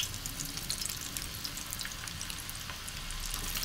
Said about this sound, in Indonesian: kita goreng dulu french fries-nya